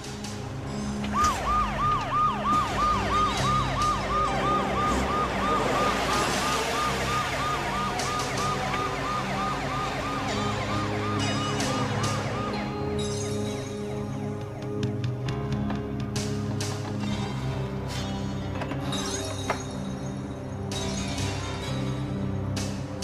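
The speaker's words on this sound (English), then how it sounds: "Turn on the siren and drive back." Emergency vehicle siren wailing in a rising and falling pattern, loud and near at first and then fading, over road and engine noise.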